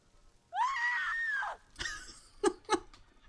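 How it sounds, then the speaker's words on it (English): Enemy soldier in the video game Ghost of Tsushima lets out a loud, sustained horrified scream lasting about a second, followed by a few sharp thuds and short impact sounds. "Horrified scream."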